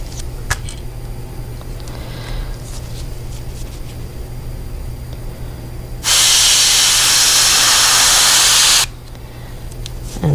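An airbrush sprays paint through a stencil onto a fishing lure, a loud, steady hiss lasting about three seconds, preceded by quieter compressor-like hum and faint handling noises.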